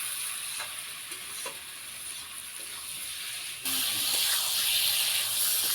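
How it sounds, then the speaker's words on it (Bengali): Vegetables sizzle and hiss in hot oil in a pan while being stirred, with scraping stir strokes; the frying grows louder and brighter partway through. "সবজিটা গুছাই আমি ভালোভাবে আবার নাড়াচাড়া দিয়ে নিব।"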